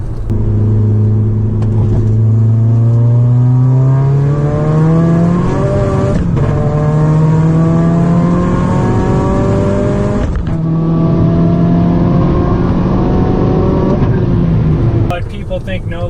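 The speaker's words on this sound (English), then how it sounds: "you can do no lift shift, and I'll show you a video of me doing that in this car here" A VW-Audi car engine pulls hard up through the gears with no-lift shifts, pitch rising steadily with quick, seamless shifts that barely break the loud, continuous roar.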